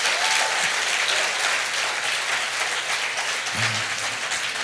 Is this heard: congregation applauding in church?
yes